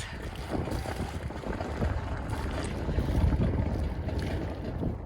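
A yacht motoring into a mooring at the Port Suez Yacht Club on the Suez Canal, with a steady low engine and water rumble under wind noise on the microphone, fairly close and continuous.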